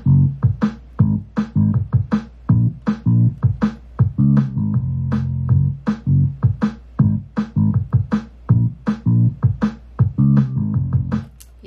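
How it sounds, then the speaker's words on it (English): A cover instrumental of a pop song has punchy drums and a deep bass playing together in a steady, tight groove, loud and close with no voices. "So with the drum and the bass together."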